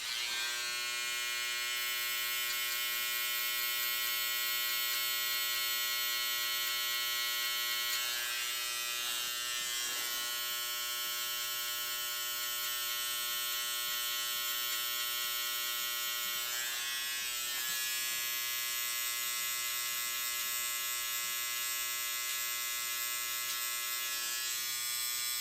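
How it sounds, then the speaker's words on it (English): A steady, close electric hair trimmer buzzes continuously while cutting hair during a self-cut burst fade, its high whine shifting slightly in tone as the blades move across the head, with no talking. "Now we're gonna get the trimmer again so we can take out that line completely."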